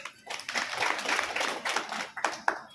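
A live audience gives a short burst of applause for a man at a gathering in Palamaneru, the clapping fairly faint and steady across a few seconds before trailing into scattered claps.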